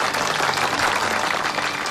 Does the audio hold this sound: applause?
yes